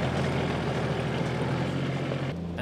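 A John Deere Gator utility vehicle climbs a mountain road in Haiti, its engine a steady, droning rumble throughout, close and continuous with no voices.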